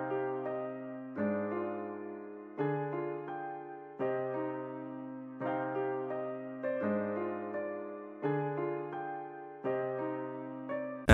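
A melody programmed in FL Studio with default, unchanged note velocities: a repeating phrase of keyed, plucked-sounding notes in an even rhythm at moderate-low level, with no voices.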